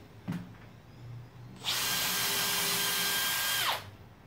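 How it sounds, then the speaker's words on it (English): A power drill whines at high speed for about two seconds as it bores through a workbench board into a sacrificial board beneath, preceded by a brief click and quiet handling. "this is going to blow out as the drill punches"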